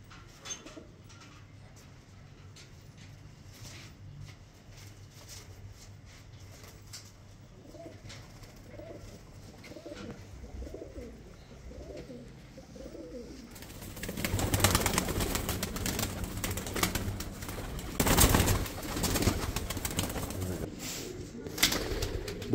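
Young pigeon pairs newly moved into a breeding cage coo softly in a repeated low rhythm, followed by louder rustling, flapping and cage clatter nearby.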